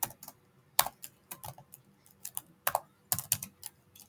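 Someone types code on a computer keyboard in Google Earth Engine: close, crisp key clicks in quick irregular bursts with short pauses, then a few separate louder taps.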